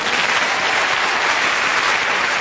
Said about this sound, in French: Applaudissez-le encore.